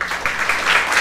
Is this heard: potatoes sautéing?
no